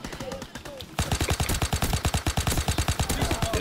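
Rapid, steady automatic assault rifle fire in Call of Duty WWII, loud and close, with a sharper, denser stream of shots after a brief lighter opening burst.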